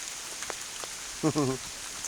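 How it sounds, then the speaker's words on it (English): Steady, dense hiss of heavy rain pouring down outdoors at Lamlash on the Isle of Arran, with a short burst of a voice partway through. "Oh, so much rain is falling."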